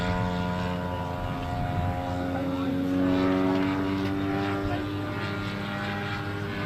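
A 37% scale Fokker triplane model aircraft in flight at an air show, its propeller engine droning steadily with a strong harmonic buzz that swells slightly midway, fairly close and clear.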